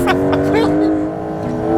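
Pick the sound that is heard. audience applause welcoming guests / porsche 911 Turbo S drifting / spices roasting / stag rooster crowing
porsche 911 Turbo S drifting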